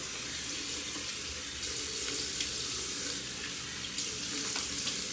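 Lukewarm water runs steadily from a bathroom tap into the sink during shaving, a continuous close splashing rush with no voices.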